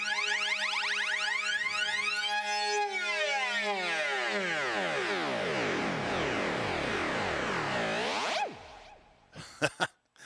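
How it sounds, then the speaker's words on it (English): A Yamaha MONTAGE/MODX synthesizer tone with a spiralizer effect sweeps through swirling, spiraling harmonics that rise and fall continuously, loud and electronic, then cuts off into a few brief clicks. "So the spiralizer effect, again, effects for synthesis."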